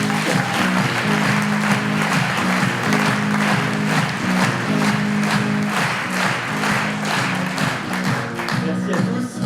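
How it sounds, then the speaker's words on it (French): Audience applause at an evening church-related gathering in a hall, a dense steady wash of clapping lasting throughout, with tonal hum or music lines underneath and possible voices mixed in. "Je vous demande d'applaudir Benjamin Blanchard."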